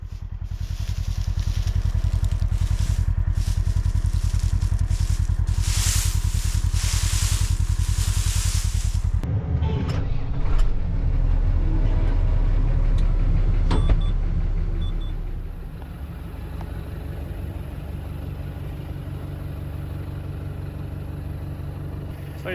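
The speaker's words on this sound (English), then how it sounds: "let's go get in the tractor." A tractor engine runs steadily during hay baling, a loud constant drone and rumble that shifts in tone midway, with clunks and rattles before it settles lower.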